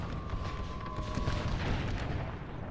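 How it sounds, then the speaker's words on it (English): Artillery fire in a Napoleon: Total War American Civil War battle at Shiloh, heard as a dense, continuous low rumble of distant cannon booms rolling together without clear separate shots. "My artillery is still trying to do what they can"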